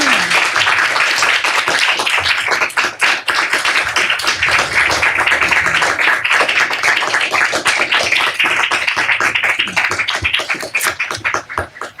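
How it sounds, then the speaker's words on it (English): A conference audience applauds its panelists after a session on Catholics and antisemitism, sustained dense clapping that fills the room steadily for the full stretch, loud and close, with faint voices mixed in. "If you want to give them a round of applause."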